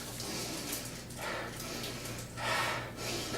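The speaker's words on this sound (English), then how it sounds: "We'll first give it a nice little sniff down." Close, breathy sniffing at a chocolate mocha Pop-Tart, a few long inhalations rising and falling over a low steady hum.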